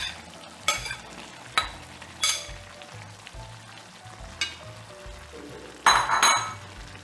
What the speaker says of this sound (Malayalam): കപ്പിട്ട് നമുക്ക് യോജിപ്പിക്കാം.